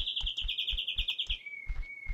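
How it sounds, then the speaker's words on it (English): A bird in an island survival video game chirps a rapid series of sharp, high repeated notes, then holds one thin sustained whistle, with soft rhythmic thumps like footsteps underneath. "Dang bird."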